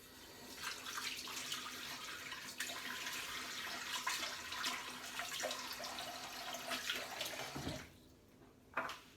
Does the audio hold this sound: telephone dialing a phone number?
no